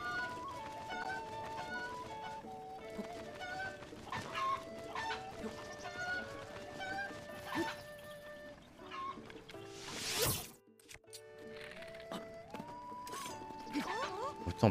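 Chickens cluck and a rooster calls in Zelda: Breath of the Wild, with short game tones and jingles around them and someone talking over much of it.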